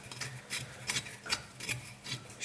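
Die nut being wound along a bolt to clean up threads during a failed agitator replacement, giving a faint, close, rhythmic rasping of metal on metal in roughly six scraping turns.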